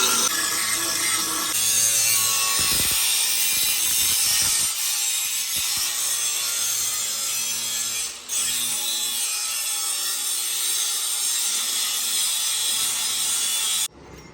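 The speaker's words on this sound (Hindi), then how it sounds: "कटिंग वाली ग्राइंडर के बाद अब हाथ वाली ग्राइंडर की बारी आ गई है, इससे हल्की सी गुलाई करनी है।" A handheld angle grinder lightly rounds the edge of a metal piece that was cut earlier with a cutting grinder. The harsh, broadband grinding rasp runs almost without a break and stays loud throughout, with brief dips in intensity.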